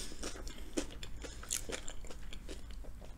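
Close, crunchy bites and chewing of a Korean pancake with jalapeno during a mukbang, a brisk run of crisp crunches with no talking.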